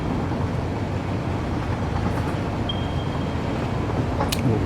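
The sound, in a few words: train moving along rails in the video game Satisfactory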